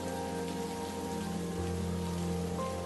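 Steady rain falls at night during a rickshaw ride, a continuous even hiss of drops on surfaces with a low background hum, moderately faint and without voices.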